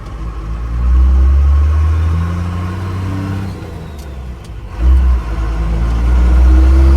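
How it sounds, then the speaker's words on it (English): A 12-valve diesel OBS Ford truck accelerates through the gears, its engine note rising loud and steady, dropping briefly at each shift, then pulling again close to the cab. "you guys can watch him go through the gears"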